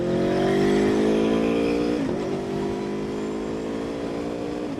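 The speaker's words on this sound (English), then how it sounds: "this is my first time back out on the motorcycle" An Aprilia motorcycle rides along a 45-mile-an-hour road, its engine droning steadily and close, with pitch climbing under acceleration, a brief dip at a gear change, then a steady cruise.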